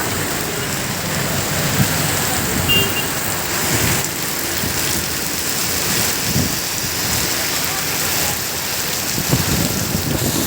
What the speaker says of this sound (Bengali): প্রচণ্ড বৃষ্টি, প্রচণ্ড বৃষ্টি, না দেখলে বোঝা যাবে না